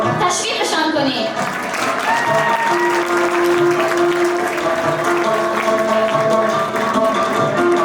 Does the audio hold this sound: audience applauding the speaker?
yes